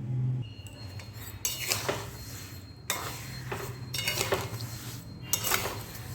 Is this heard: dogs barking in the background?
no